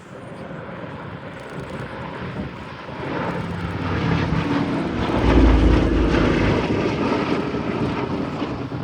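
B-17 bomber flying a display at the Abingdon Air & Country Show, its piston engines droning steadily and swelling louder as it draws nearer overhead.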